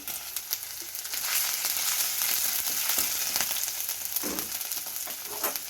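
Garlic, ginger and green chillies fry in hot oil for gobi manchurian, giving a steady, loud, close sizzle with crackling pops and occasional stirring scrapes. No one speaks.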